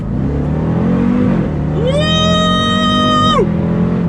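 A 700 BHP Jeep Grand Cherokee Trackhawk accelerates hard from inside the cabin, a loud engine roar that climbs sharply in pitch, holds a high whine, then drops as a gear change or lift-off cuts in.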